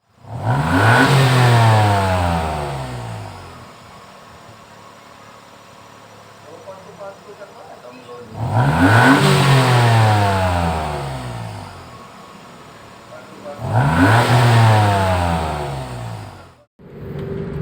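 A Daihatsu Xenia 1.0 engine, freshly tuned, revs hard three times, each rising then falling roar separated by a quieter idle, close and loud.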